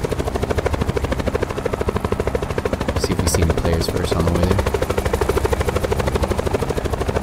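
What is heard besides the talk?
helicopter flying, from video game Call of Duty Blackout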